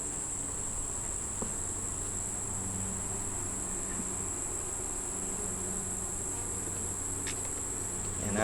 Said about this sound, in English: And some new bees, fuzzy bees.